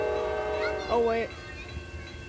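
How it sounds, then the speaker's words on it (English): A freight train passes during railfanning in Michigan, its horn sounding one long blast over steady rumbling rail noise, close and loud, with someone talking nearby. "I think this is the same train that backed up."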